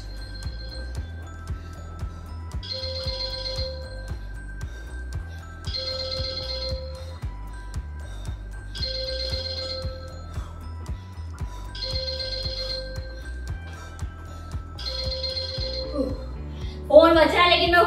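A mobile phone ringtone repeats in the background during a standing abs workout at home, five evenly spaced bursts of electronic melody over a low steady hum, then a short spoken phrase at the end.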